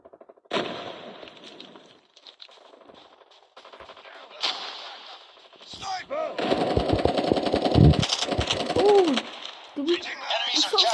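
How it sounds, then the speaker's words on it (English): Call of Duty video game gunfire, rapid automatic bursts and heavy shots building to a loud sustained volley, with game sounds between the shots. "We actually shot someone"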